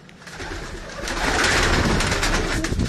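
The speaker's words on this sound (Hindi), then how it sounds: "ये जी सारे तस्वीर वाले कबूतर हैं।" Pigeons coo softly and repeatedly close by, their low throaty calls swelling a little louder partway through, with no talking.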